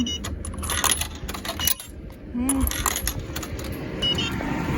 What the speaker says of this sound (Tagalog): Kaya ito yung pera natin. Hulog lang natin dito.